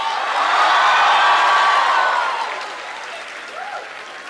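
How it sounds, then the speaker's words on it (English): A university auditorium audience at a student event breaks into loud, sustained applause with some cheering, the clapping fading after a few seconds. "A huge round of applause to you guys"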